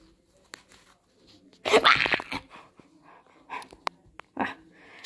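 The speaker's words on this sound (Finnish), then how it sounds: "Se oli tallin koira." A dog at a horse stable sniffs, snorts and sneezes up close in short, separate bursts with quiet pauses between them.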